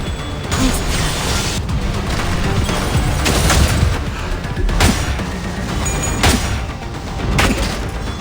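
Gunfire in the shooter game Arena Breakout, a dense stretch of loud mechanical clatter and sharp bursts of shots, close and continuous with no talk.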